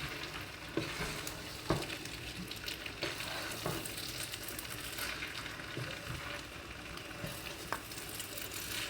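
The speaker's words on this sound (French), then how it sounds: "je mélange bien pour que les légumes soient bien mélangés avec le riz" Rice and vegetables are stirred in a pan over steady, close frying sizzle, with occasional spoon scrapes and taps breaking the continuous crackle throughout.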